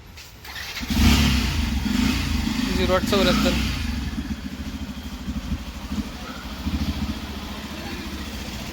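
A newly bought car or motorbike engine runs and revs near the mic, with a steady idle and brief rises in pitch, while people talk over it.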